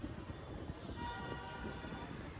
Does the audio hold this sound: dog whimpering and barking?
no